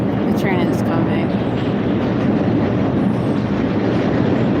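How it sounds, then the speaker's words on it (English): A loud, continuous rumble of a train rolling past nearby, with steady rattling and roaring that never lets up. "the train is coming."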